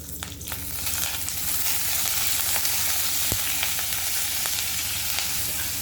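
Chilli thecha of roasted peanuts, salt and oil cooking in a pan over low gas, giving a dense continuous sizzle with faint stirring scrapes, close and fairly loud, no voices.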